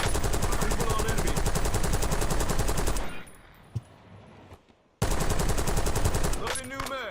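Rapid bursts of automatic gunfire in a Warzone-style shooter played with keyboard and mouse, loud and dense for three seconds, then a quiet gap with a single shot, before heavy firing resumes with a few clicks near the end.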